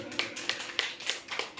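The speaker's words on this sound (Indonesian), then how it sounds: "Kita beri aplaus, tepuk tangan." A class or audience at a school gathering claps in a short, quiet burst, with soft rhythmic pats recurring about every third of a second and no voices.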